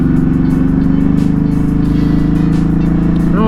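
Ducati Hypermotard 950 RVE engine while riding to work, a loud steady rumbling thrum heard close from the rider's position, holding a constant pitch before rising briefly at the end.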